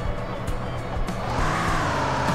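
Car engine droning steadily in the physics crash game Turbo Dismount, a continuous near motor hum with a rising pitch toward the end and faint thumps, no talk.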